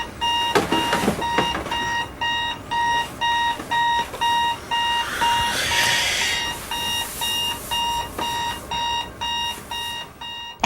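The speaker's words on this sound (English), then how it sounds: "Pete, your alarm clock is ringing" An alarm clock ringing in steady, evenly spaced bursts of high electronic beeping, loud and close, repeating without pause as faint background noise runs underneath.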